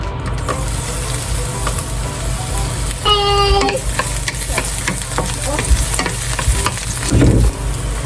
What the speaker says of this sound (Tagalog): So, ngayon, maglagay na tayo ng ahos.